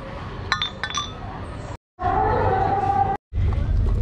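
Beer glasses clink in a toast at a happy-hour spot in Istanbul, a few bright quick taps early on, followed by loud busy street or bar noise that cuts out briefly twice.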